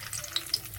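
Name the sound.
two bay leaves sizzling in hot oil tempering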